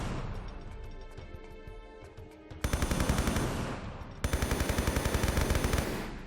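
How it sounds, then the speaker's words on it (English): Automatic gunfire in the Tomb Raider 3 Area 51 level, two long sustained bursts of rapid, loud shots following a quieter stretch of game ambience with faint scattered clicks. "I'm going to gun this guy down."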